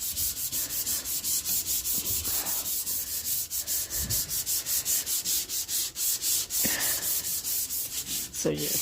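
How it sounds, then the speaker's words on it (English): Steady sandpaper rubbing on the body of a Mazda RX4 being prepped for custom paint as a drift car, a close, continuous scratchy rasp in quick rhythmic strokes with brief pauses. "The heavy duty stuff that's on there, it's going to run over with some sandpaper."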